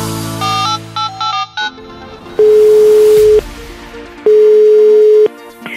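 Telephone line on a Czech morning radio call-in show, with a few short electronic dialing beeps followed by two long, loud steady ringback tones separated by a pause, clean and close.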